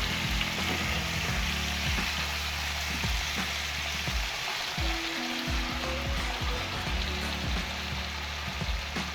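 Cubed saltfish browning in a hot pan makes a steady, dense sizzle and crackle throughout, close up, with a few soft stirring knocks underneath.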